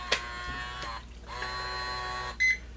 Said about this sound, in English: The bolt goes to lock